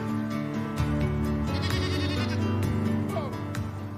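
Goats bleating on a farm, several loud wavering cries overlapping and close by, continuing throughout with little pause.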